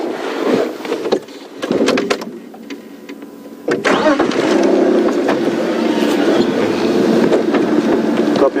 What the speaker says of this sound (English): I've just started my vehicle